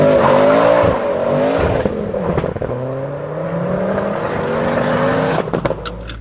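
A 500 bhp Mk6 Ford Fiesta RS swapped with a Focus RS 2.5-litre turbo engine pulls through the gears from inside, engine drone rising and dropping with shifts, plus a few clunks near the end.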